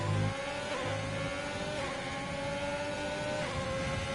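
F1 racing cars in the F1 2020 video game, a continuous high engine whine holding near and steady, with brief lower bursts as cars pass through a triple right-hand corner.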